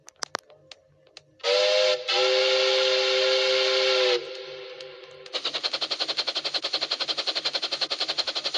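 A train whistle gives a long, loud, sustained blast that breaks off briefly and resumes, then gives way to a fast, steady rhythmic chuffing of the train.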